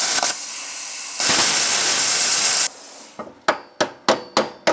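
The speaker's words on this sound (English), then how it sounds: "I tried beating it out. I tried using the pickle fork." A pickle fork is hammered on the suspension of a Nissan 240SX. A long hissing burst comes first, then a series of sharp, close metallic strikes at a fairly even rhythm, with no talking.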